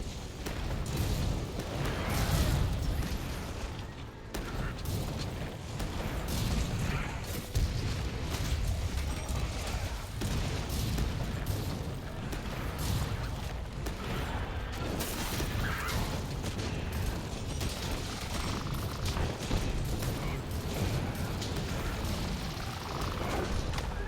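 Gunlance explosions in Monster Hunter World: dense, continuous booming blasts and clanking combat noise go on throughout, loud and busy with no pauses.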